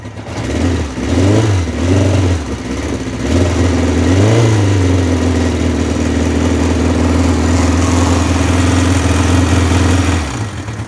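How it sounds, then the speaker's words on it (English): A classic motorbike engine idles on choke steadily and loudly up close, with a couple of brief revs early on before settling into a constant throbbing hum around 2000 RPM. "So this is on the choke now. You can just leave it about 2000 RPM"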